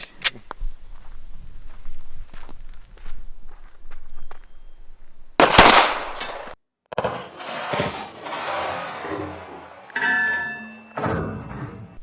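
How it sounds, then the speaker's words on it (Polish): Glock 9mm pistol firing a hollow point round at a hard drive, heard as a single sharp, loud outdoor gunshot with an abrupt burst and quick decay, amid quieter handling noises and soft thumps. "Znowu na pierwszy strzał i dziewiątka w hollow pointie z Glocka wcale jest trochę mały, mogę nie trafić."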